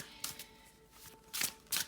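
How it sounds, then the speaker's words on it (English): Brief riffle of tarot cards being shuffled, two or three quick papery bursts in a quiet room. "Let me just shuffle it quickly."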